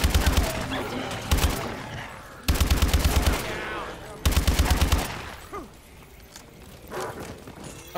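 Rapid automatic gunfire from Call of Duty: Advanced Warfare Exo Zombies, three loud sustained bursts in quick succession separated by brief pauses, then quieter scattered game sounds and faint thuds.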